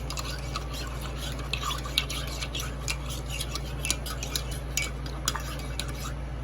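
A spoon stirs a pre-workout drink in a glass, giving light, rapid clinking and scraping ticks that repeat steadily and close up against a low hum, with no talk.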